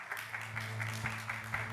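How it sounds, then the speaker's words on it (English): An audience at a university event gives a round of applause, a short burst of scattered clapping that carries on steadily beneath a voice. "Please give a warm round of applause for Ma'am Roselle."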